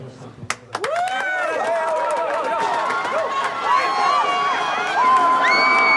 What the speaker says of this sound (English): A capacity crowd, standing room only.